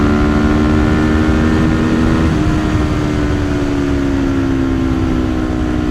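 A 2025 Kawasaki Ninja 500 SE, a small-capacity motorcycle with a tuned engine, accelerates. Its loud, steady engine drone holds close and continuous for the whole stretch, with no talking.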